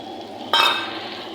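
Ground spices tipped into hot oil over well-fried onions for a Bengali fish and potato curry, giving a sudden loud sizzle that flares up and then settles into a steady crackle.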